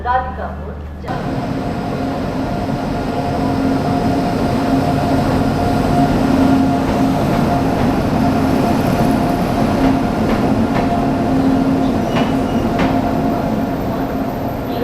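The Uttarbanga Express stands at a platform at Malda station, giving a constant loud rumble and hum with station bustle, and a voice can be heard over it.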